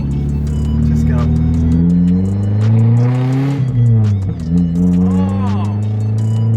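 A Nissan S13's engine idles loudly nearby, then climbs in pitch through revs and drops back, its droning note rising and falling over several seconds with faint sounds around it.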